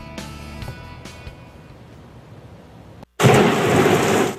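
Thunderstorm with heavy rain in Naugatuck, Connecticut: distant thunder rumbles under steady rainfall, then a short gap gives way to a loud, dense roar of pouring rain.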